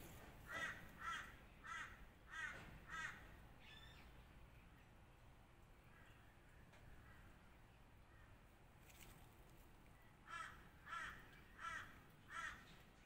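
Faint crows caw in short repeated series, a few harsh calls early and again near the end, over quiet outdoor ambience.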